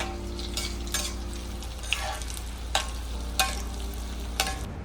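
Potato nests frying in hot oil in a pan, a continuous crackling sizzle with a few sharp scrapes and taps from a utensil at intervals, close up and without speech.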